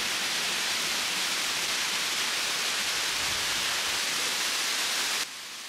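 Waterfall near Kilimanjaro roaring as a dense, steady broadband wash of falling water, loud and close, continuing unbroken for about five seconds before cutting off abruptly near the end.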